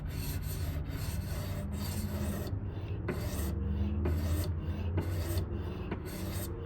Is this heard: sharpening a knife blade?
yes